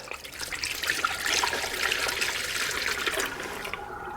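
Coolant poured through a funnel into the cooling system of a Subaru EJ25 2.5 engine: a steady, gurgling liquid stream that runs for several seconds and then tapers off, close and alone.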